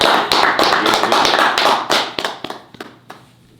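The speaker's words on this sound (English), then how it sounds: "Round of applause." Studio audience claps to welcome a female host onto a music talk show, a loud close burst of dense clapping that holds for about two seconds, then breaks into a few scattered individual claps before dying out.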